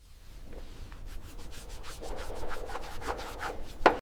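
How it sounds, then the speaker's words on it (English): Headlights and chrome grille on a junkyard blue Rolls-Royce being hand-polished, a close, steady run of rhythmic rubbing strokes that gradually grow louder. "Polishing and restoring clarity to headlights and chrome grille."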